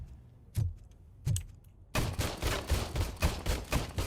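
Gunfire at a shooting practice range in the video game RoboCop: Rogue City: two separate loud single shots, then a rapid, sustained burst of continuous firing.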